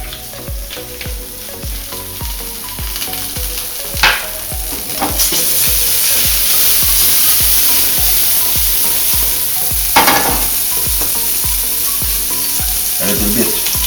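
Pasta being tossed with ragù alla Bolognese and a knob of butter in a hot pan, a loud continuous sizzle with rhythmic scraping and stirring strokes, close up with no talking.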